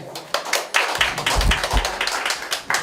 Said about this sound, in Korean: 여러분 박수를